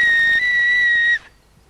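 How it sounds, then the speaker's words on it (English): A person whistles one clear, loud, steady high note, held for just over a second before it cuts off abruptly. "Can you even whistle when you like?"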